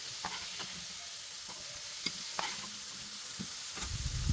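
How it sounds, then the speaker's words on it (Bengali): Potatoes fry in hot oil in a pan for egg curry, giving a steady low sizzle with scattered scrapes and taps of a spatula, and a louder burst of stirring near the end; no one speaks. "আলুগুলো ভালো করে ভেজে নেব।"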